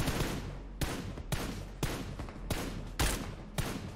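MG3 machine gun fired in a PUBG battle-royale match: loud, close bursts of rapid automatic fire broken by short pauses, seven or eight bursts in a few seconds with no talking.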